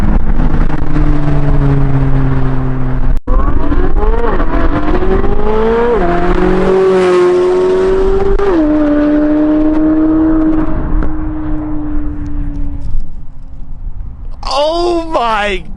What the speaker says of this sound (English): That engine likes it. Like, it likes being revved that high.